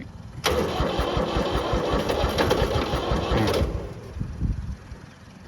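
An L2201 tractor's diesel engine starts up and runs with a loud, rapid chugging clatter, then settles and fades toward a quieter idle near the end.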